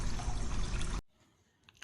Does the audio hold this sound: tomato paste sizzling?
no